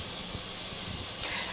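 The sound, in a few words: steam venting from a pressure canner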